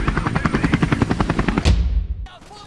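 A helicopter in Call of Duty Modern Warfare 2 Remastered thumps with fast rotor beats, loud and close, then the noise sweeps down and fades into quieter game sound.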